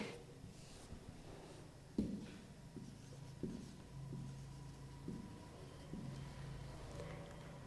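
Pen or marker writing by hand on a board or page during a botany lecture on angiosperms: faint, scratchy strokes with a few sharper taps, quiet and fairly close, with no talking.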